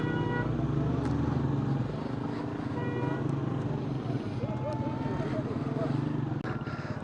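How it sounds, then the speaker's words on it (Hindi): A traffic jam at Babusar Top, a high mountain pass: idling and creeping cars and motorcycles rumble close by, with occasional short horn toots and someone talking over the steady roadway noise. "जब से टॉप पे मैं पहुँचा हूँ ट्रैफिक जैम है मुसलसल, इतना रश है।"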